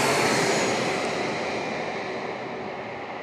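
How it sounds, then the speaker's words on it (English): An Embraer E-175 airliner landing at San Diego International Airport, a loud broad jet roar that slowly fades as the aircraft passes, with no voices. "an E-175 landing right now"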